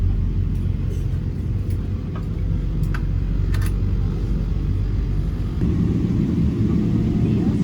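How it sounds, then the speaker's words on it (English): An Air Canada airliner taxiing on the tarmac after pushback, heard from inside the cabin as a steady, loud low engine rumble and roar that continues unbroken, with a slight shift in tone near the end. "we finally began to push back from the gate and start our taxi for takeoff"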